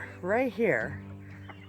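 Chickens clucking near a greenhouse garden, a couple of drawn-out rising and falling clucks close by, with a brief voice speaking at the end.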